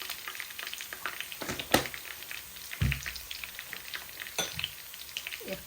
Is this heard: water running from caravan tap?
no